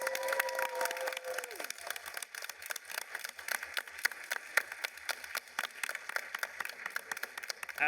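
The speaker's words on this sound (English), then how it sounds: "please just quickly stand up so the audience can give you a round of applause as well" A convention expo panel audience applauding the team, a dense steady patter of many hands clapping throughout, heard from within the room at moderate level.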